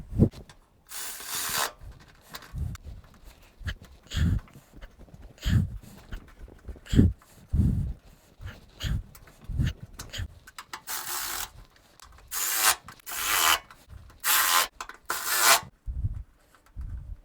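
Eight-millimetre bolts on a fuel pump in a 1998–2001 Nissan Frontier are tightened with a ratchet, giving irregular scraping, rasping strokes with short pauses between them, close and fairly quiet.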